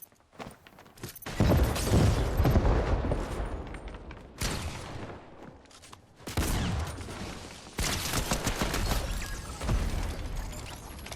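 Pistol fire in Fortnite, heard as bursts of quick, close shots in clusters with short pauses between, plus mechanical clicks and footsteps of game action.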